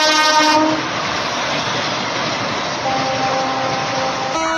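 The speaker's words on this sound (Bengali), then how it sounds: "জয়রামবাটি রেল স্টেশনের সিআরএস স্পেশাল ইন্সপেকশন ট্রেন দেখতে পাচ্ছেন, ঢুকছে প্ল্যাটফর্মে ধীরে ধীরে" A CRS special inspection train rolls slowly into the Jayrambati station platform on the Bishnupur–Tarakeswar line, its horn blaring loudly over a steady rumble of wheels and carriages.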